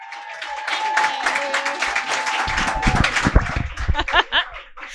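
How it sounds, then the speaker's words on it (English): An audience applauds and laughs for a comedian being brought onstage, the clapping swelling and growing denser in the second half after a quieter, mixed crowd stretch. "please clap it up"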